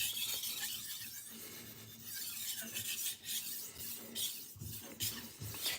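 A kitchen knife being sharpened in sections, giving steady, close rasping strokes of steel grinding across an abrasive surface, with no talking.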